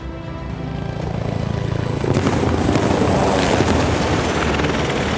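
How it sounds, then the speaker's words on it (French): A military attack helicopter maneuvers to engage an enemy tank at a French Army capabilities demonstration, its loud, steady rotor and engine roar swelling after about two seconds and holding strong to the end. "L'hélicoptère d'attaque du sous-groupement va prendre l'ennemi à son compte et manœuvrer pour le détruire."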